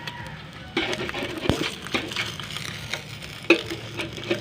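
An egg fries in hot, smoking oil in a basin left out under the afternoon sun, giving a steady close sizzle and crackle with a few sharper pops, and no talk over it.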